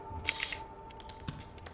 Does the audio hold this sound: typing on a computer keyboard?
yes